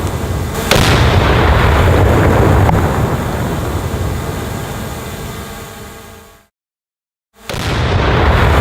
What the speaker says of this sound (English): So we just exploded some tannerite underneath the gun.